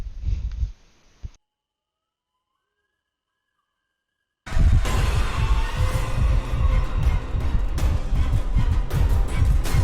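A heartbeat sound effect in a homemade horror video game, starting as a brief faint pulse, then a silent gap, followed by loud, dense, throbbing low thumps layered with scary music for the rest of the stretch.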